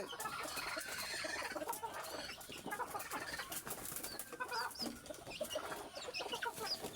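Native chickens cluck and call around a farmyard, several birds close by with irregular clucks and brief wing flaps over a soft background.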